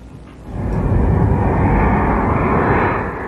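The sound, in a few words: U.S. attack planes, F-16 jets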